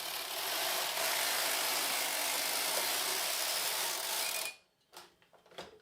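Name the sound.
knitting machine carriage pass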